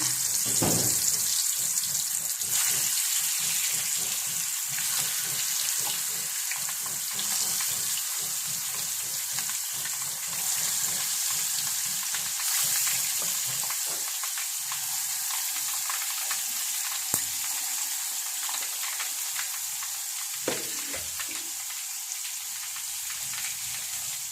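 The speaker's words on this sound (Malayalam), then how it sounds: "ഈ അടുപ്പത്തേക്ക് എണ്ണ അടുപ്പത്ത് വെച്ചിട്ടുണ്ട് മീൻ വറുക്കാം" Fish sizzles in hot oil on a kitchen stove, a loud, steady, close frying hiss that runs unbroken with occasional faint pops.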